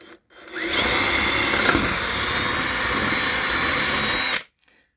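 Power drill boring a hole through wood for an owl nest box, a single steady whine lasting about four seconds, close and loud, then stopping abruptly.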